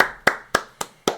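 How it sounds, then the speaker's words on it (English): Four sharp, evenly spaced hand claps ring out for Trish, crisp and close with a short decay after each, with no voices over them. "Clap it up for Trish."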